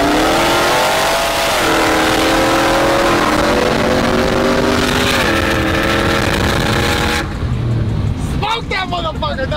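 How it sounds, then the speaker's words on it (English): A 2020 Chevrolet 2500HD Duramax diesel pickup with newly fitted headers and aftermarket exhaust revs loudly and close by, its rising and falling engine tones running under people talking before cutting off near the end. "We're adding some headers, exhaust, kind of like the exhaust that we added to Perrillo's truck yesterday."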